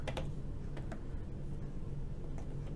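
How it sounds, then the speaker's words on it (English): Light clicking keystrokes on an Apple iPad Pro 9.7-inch keyboard, a few quick taps in small bursts, quiet and close. "So I'm going to try and type something with this keyboard."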